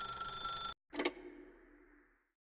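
A ringing telephone in the video game The Stanley Parable, a sustained electronic bell tone that cuts off abruptly and is followed by a brief clunk as the receiver is handled, then fades out.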